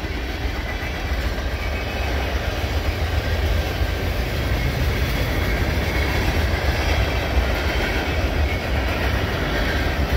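A Norfolk Southern intermodal freight train rolls steadily past up close, a continuous rumbling roar with faint rhythmic clatter of wheels, loud and unbroken throughout.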